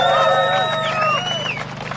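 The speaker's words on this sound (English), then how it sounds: "Big round of applause, everybody." A protest crowd at Parliament Square cheers and whoops loudly, with rising and falling shouts and whistling voices over a steady crowd roar and some clapping underneath.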